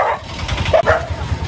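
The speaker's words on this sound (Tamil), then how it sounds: "நாய் துரத்துதுங்க என்ன." A dog barks a few times outdoors near a roadside food stall at Dondra Point in southern Sri Lanka, the short yips set against steady traffic and engine noise.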